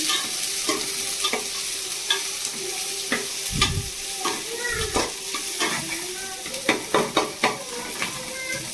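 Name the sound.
onions being stirred and sautéed in a pan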